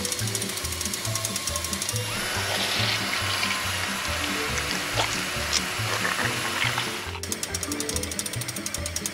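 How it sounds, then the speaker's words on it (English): A LEGO machine's drill grinds through the wheels and body of a cucumber car, giving a rhythmic clicking, ratcheting mechanical rattle with a wetter grinding stretch in the middle, close and steady. "This drill will go straight through the wheels and the body of cucumber car."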